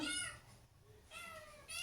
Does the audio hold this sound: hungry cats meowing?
yes